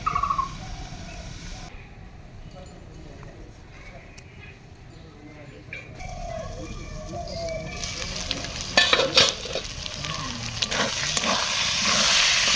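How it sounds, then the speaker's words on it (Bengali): Meat sizzling and being stirred in a hot pan for a meat pitha cooked in sal leaves, a steady frying hiss with scraping stir sounds growing louder toward the end, with a voice faintly audible at times. "মাংস ভালো করে কষে নিয়েছি।"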